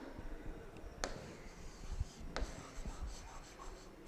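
Pen or pencil writing on paper during a class 4 maths lesson, a soft scratchy scribbling with a couple of sharper strokes, close and fairly quiet with no talking.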